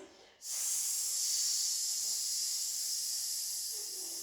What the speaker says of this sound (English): Exhale with the hiss.